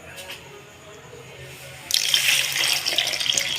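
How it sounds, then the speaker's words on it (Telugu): Water is poured from a small vessel over soaked tamarind. A soft trickle at first gives way to a louder, steady splashing stream close by. "ఒక అరచెంబు దాకా వాటర్ పోస్తుంది"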